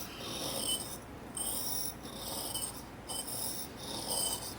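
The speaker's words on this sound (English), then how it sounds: "you do as many strokes as it takes to get it sharpened" A WingLux dental elevator is drawn across a sharpening stone in steady, even strokes, a soft close rasp repeating about once a second with no voices.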